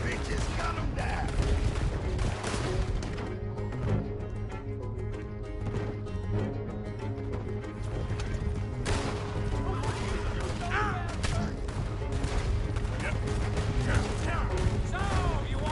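Gunfire crackles in repeated bursts during a stagecoach robbery in Red Dead Redemption 2, loud shots scattered over a dense, busy background with voices talking throughout.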